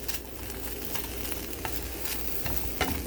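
Eggs sizzling in a pan while being pushed around, a steady crackling fry with soft scraping strokes scattered through, close and fairly quiet.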